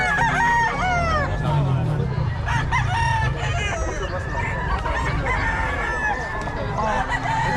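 Many chickens and roosters at a busy poultry market in Bocaue crow and cluck loudly and continuously, with overlapping calls and people talking in the background.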